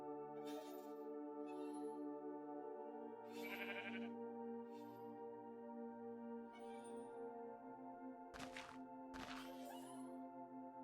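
Sheep bleating in Minecraft, several short separate bleats over a steady droning tonal background, with sharp bursts near the end.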